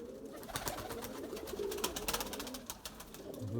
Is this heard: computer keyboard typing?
no